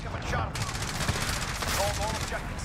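Rapid automatic gunfire in Modern Warfare crackles in quick, steady bursts for the whole stretch, fairly close and dense, with faint speech mixed underneath.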